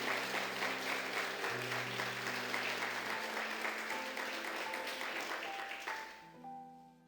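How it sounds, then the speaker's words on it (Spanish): Church congregation applauding steadily for about six seconds, a dense wash of clapping that tapers off at the end while faint sustained organ or keyboard tones continue underneath. "Dele un aplauso al Señor."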